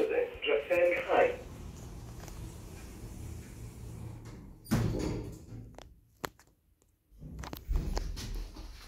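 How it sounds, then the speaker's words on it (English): Lift doors at Ystrad Mynach railway station platform close with a short rumble and a thunk, followed by quieter mechanical knocks, while a recorded announcement voice speaks near the start. "Doors closing."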